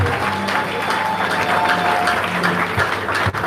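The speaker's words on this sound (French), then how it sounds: "Est-ce qu'on peut acclamer?" Sustained applause from an audience at a memorial for a patriarch, steady and loud throughout with a dense crowd wash, no clear speech over it.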